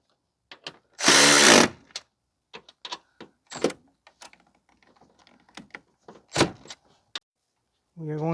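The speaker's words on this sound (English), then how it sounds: "we are going to snug up the nuts here" A power tool snugs up the front strut nuts on a 2015 Toyota Sienna AWD 3.5 in one loud, brief burst, followed by scattered clicks and knocks of hand work and someone speaking.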